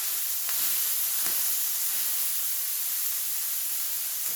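A hamburger patty fries in a pan with a steady, loud hiss and sizzle of hot fat that continues throughout. A couple of faint pops break through, and nobody speaks.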